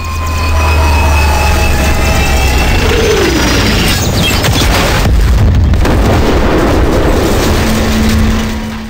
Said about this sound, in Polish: Wybuchy i jeszcze raz wybuchy.